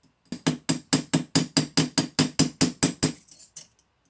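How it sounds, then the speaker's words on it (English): A hammer strikes the top of a metal rivet to flare it, landing about fourteen sharp, evenly spaced metallic blows in quick succession, loud and close, with the last few weaker before the tapping stops. "Let's continue hammering crosswise, always which spreads the metal evenly to flare the top of the rivet."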